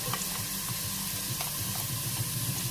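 Chopped leek sizzles hard in a hot frying pan while being stirred, a dense continuous crackle with scraping stir sounds, close and loud, no talking.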